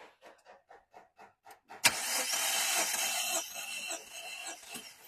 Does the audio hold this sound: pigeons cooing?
no